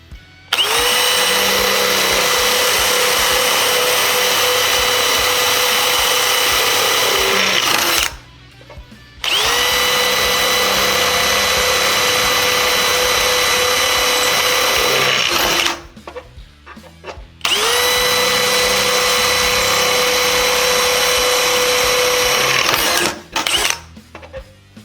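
A power drill fitted with a dual-purpose Gaeko drill bit bores holes in three long, loud bursts of about eight seconds each, with brief pauses between them and no talking.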